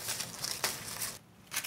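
Crunching from eating stir-fried anchovies and peanuts, a Korean side dish: a close, dry crackling crunch with one sharp bite, a brief pause, then more crunching.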